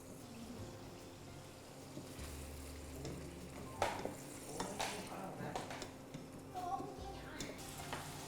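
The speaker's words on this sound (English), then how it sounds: "Okay, so the onions are sauteed, they're getting flavorful now." Onions and garlic sauté in a pan for beef stroganoff, a soft steady sizzle under a person talking, with occasional clinks and scrapes of a utensil stirring against the pan.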